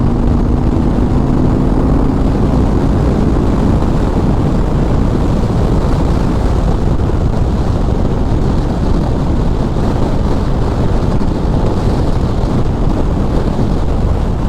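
An Indian Springfield Dark Horse 2023 motorcycle's engine drones steadily while riding, a continuous low rumble mixed with heavy wind buffeting across the whole stretch, no talking.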